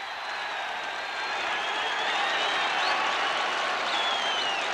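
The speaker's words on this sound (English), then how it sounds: "The massive crowd go wild" A massive stadium crowd at a 1974 Transvaal versus British Lions rugby match roars and applauds a drop goal, a dense, sustained wall of cheering and clapping that swells slightly and holds steady.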